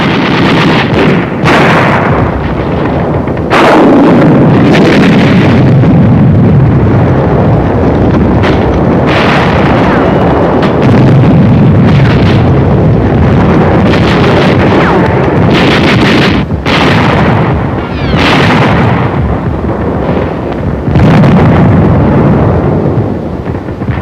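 Bursts of hand-carried bazooka rocket fire from World War II combat in the Battle for New Britain, 1944, with heavy booms and blasts recurring every few seconds over constant loud rumble and wind noise, no talk.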